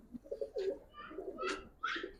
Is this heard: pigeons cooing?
yes